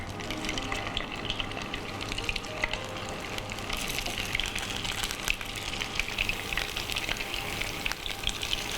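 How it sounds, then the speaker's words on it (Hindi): Chicken shallow-frying in a pan with tomato, a dense, continuous sizzle and crackle of hot oil heard close and alone, steady throughout. "चिकन को हम फ्राई कर लेते हैं"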